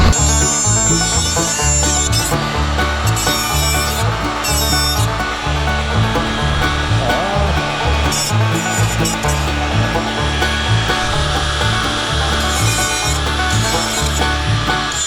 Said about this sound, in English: Get to cutting these frame rails.